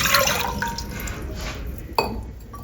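Water poured into a cooking pot for Chettinad paal kozhukattai, rice flour dumplings: a short splashing, gurgling pour with a sharp clink partway through, heard close up.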